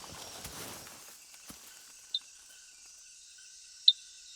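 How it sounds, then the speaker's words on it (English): Dink frogs call in a Costa Rican forest: two sharp, high metallic 'dink' notes ring out a couple of seconds apart, clear against a quiet background after a brief rustle at the start. "Dink frogs are dinking everywhere."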